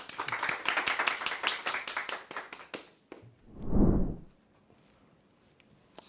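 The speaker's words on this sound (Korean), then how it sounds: "큰 박수 부탁드리겠습니다." A studio audience at a Korean book show claps loudly for an author about to give a short lecture. The dense, bright burst of applause runs for about three seconds and then stops, followed by a brief low thump and quiet.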